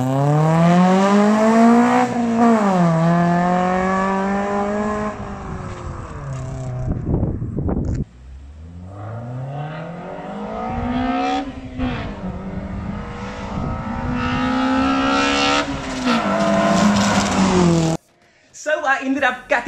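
3SGE two-litre swapped Nissan 200SX doing donuts, its engine revving in long rising and falling sweeps with a brief cut mid-run, fairly close and steady, with voices underneath.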